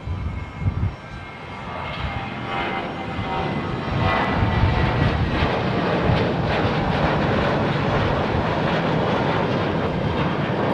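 Airliner engines roar steadily at San Jose Airport, a loud broad rumble that swells and holds for several seconds, with no voices over it.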